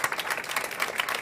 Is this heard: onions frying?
no